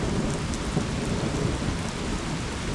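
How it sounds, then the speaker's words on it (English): Heavy rain pours down steadily through a thunderstorm, with low rumbling thunder rolling underneath the dense hiss of falling water. The sound is continuous and loud, and no one speaks. "Oh, look at that thunder."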